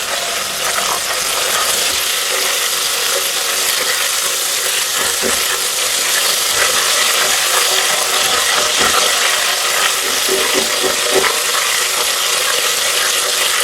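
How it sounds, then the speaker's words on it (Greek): Squid frying in a pan for Greek taverna-style crispy calamari gives a steady, dense sizzle with crackling pops throughout, loud and close, with no talking. "Καλαμαράκια τηγανιτά σαν της ταβέρνας σας έχω φτιάξει."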